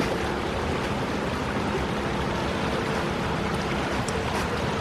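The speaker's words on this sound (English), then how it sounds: "The river's stream is going quite fierce." A fast, fierce river stream, not flooded, rushes in a steady, dense broadband roar that fills the whole stretch without pause, close by and loud with no talking.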